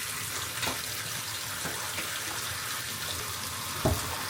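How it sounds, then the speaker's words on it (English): Water from a tap runs steadily into a bathtub, a continuous hiss and gush that fills the space evenly with no talking, ending in a brief knock. "So yeah, I'm gonna run a bath."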